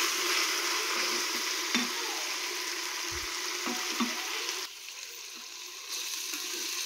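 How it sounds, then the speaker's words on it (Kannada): Ginger garlic paste frying in a pan for chicken biryani, a steady close sizzle with a few scraping stirs of a spoon, dropping slightly quieter partway through before picking up again. "ಸ್ವಲ್ಪ ರಾ ಸ್ಮೆಲ್ ಹೋಗೋ ತನಕ ಹುರ್ಕೊತಾ ಇದ್ದೀನಿ"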